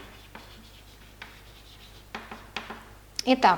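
Chalk or a marker scratches out short strokes on a board during a chemistry lesson, with a few separate quiet scrapes followed by a quicker, louder burst as a voice briefly speaks.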